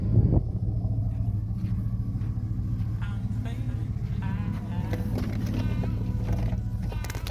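A 2003 Chevy Suburban engine idles with a steady low rumble close by, droning evenly throughout and running smoothly.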